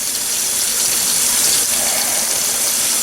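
Vintage Lodge cast iron pan, a No. 5, scrubbed under a running tap, with steady loud gushing water filling the whole stretch and no talking.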